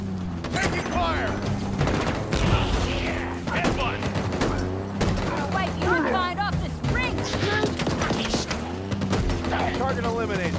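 Rapid gunfire rattles nearly nonstop in Halo Infinite, dense overlapping shots and bursts over a steady low drone, with voices and chattering calls heard through the firefight.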